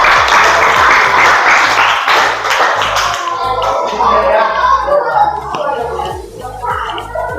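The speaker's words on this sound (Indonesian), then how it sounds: "Sekali lagi tepuk tangan sama si Eva." A classroom of students claps for a fellow student, a loud, close burst of mixed applause that gradually thins and fades toward the end.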